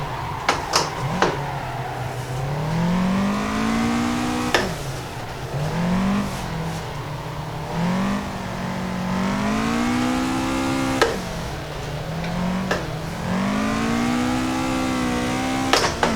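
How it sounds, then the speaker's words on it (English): Toyota AE86 engine in the racing game Assetto Corsa, drifting without the handbrake: a high-revving four-cylinder rising and falling in repeated throttle sweeps, loud and close, with occasional sharp clicks and no talk over it. "I'm going to be very gentle on the throttle because this car has a weird tendency to slowly go into this unrecoverable spin."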